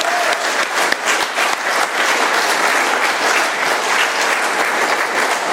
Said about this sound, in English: Let's give Scott another round of applause